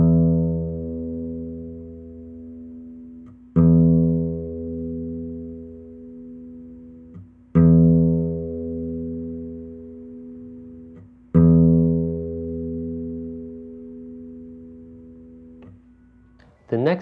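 Free-stroke plucks on an open sixth string of a guitar, four separate low notes struck every few seconds, each ringing out and slowly decaying, close and clear with no talking.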